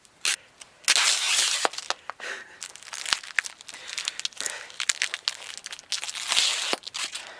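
Duct tape is pulled and crinkled close up, giving bursts of tearing, crackling and crunching with brief pauses between them and no talking.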